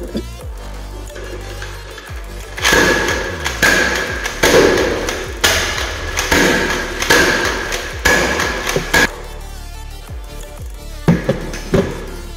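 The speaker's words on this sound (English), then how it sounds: "here's another demo of the slam fire, and maybe you should cover your ears for this one." A Zuru X-Shot Turbo Fire toy blaster slam-firing in a rapid, loud string of sharp cracking shots, up close and with roughly steady spacing, then a few more scattered shots near the end.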